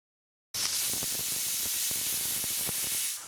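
After a brief silence, a pressure cooker on high heat lets out a loud, continuous steam whistle hiss while cooking chakli dough, holding steady and then starting to fade.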